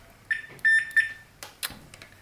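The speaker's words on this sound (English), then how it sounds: "continuity setting on my meter, which makes a beep if all is good" Multimeter on its continuity setting gives a few short, clear electronic beeps while testing a Stratocaster's wiring between bridge, claw and ground wire, followed by faint clicks and handling noise.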